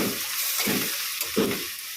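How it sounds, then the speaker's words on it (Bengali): Snake gourd and onion fry in a pan, a continuous sizzle broken by several louder scraping stirs, close and alone without talk. "চিচিঙ্গা ভাজাটা করছি পেঁয়াজ দিয়ে।"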